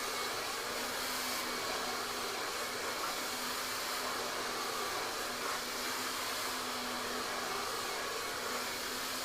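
Hair dryer blowing air onto a round brush during a long layered haircut, a steady close whooshing roar that holds constant throughout with no talk.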